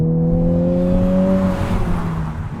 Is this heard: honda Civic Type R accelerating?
yes